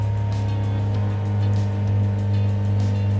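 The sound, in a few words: car engine held at 3000 rpm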